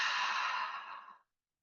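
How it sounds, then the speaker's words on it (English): A single loud, breathy exhale through the mouth during a guided breathing exercise, steady for about a second before tapering off into silence, with no talking. "exhale through the mouth loudly."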